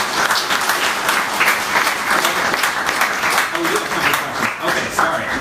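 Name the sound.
audience applause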